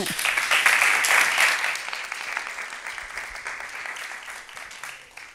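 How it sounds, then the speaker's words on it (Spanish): An audience applauds the jury at the BID-FEMSA awards ceremony. The clapping is full and sustained, strongest at first, then gradually thins and fades toward the end. "démosle un aplauso al jurado"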